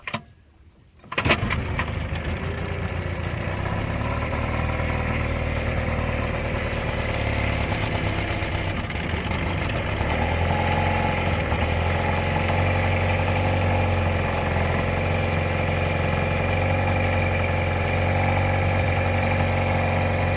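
A 1957 Mercury Mark 10 outboard motor, revived after sitting 45 years with its carburetor freshly adjusted, starts abruptly after a brief silence and then runs steadily and loudly close by, a continuous droning idle with no talking.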